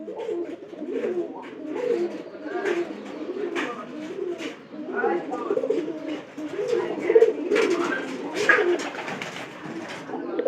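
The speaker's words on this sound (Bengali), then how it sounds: "কবুতর গুলো ডাক এরকম।" White pigeons coo in repeated low, throaty phrases, several birds overlapping close by in a steady rolling rhythm, with no one speaking over them.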